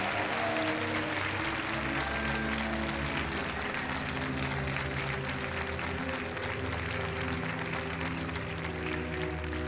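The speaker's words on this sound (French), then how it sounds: "Allez, sous les applaudissements du public." A game show studio audience applauds steadily as contestants depart, the clapping dense and sustained throughout over a bed of music with low tones.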